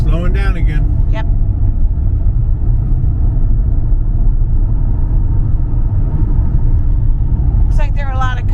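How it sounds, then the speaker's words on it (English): A car drives through slowing road traffic, giving a steady, loud low rumble of engine and tyre noise throughout, with short bits of voice at the start and end. "Traffic is slowing down again."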